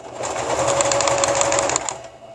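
A sewing machine stitches fabric for a tissue case, a steady fast whirring rattle close by that runs for about two seconds and then stops.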